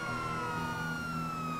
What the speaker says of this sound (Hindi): एक ये और एक एम्बुलेंस वाले ने दिमाग खराब कर दिया, सायरन बजा बजा के।